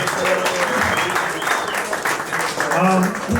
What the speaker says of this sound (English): one more round of applause for the panel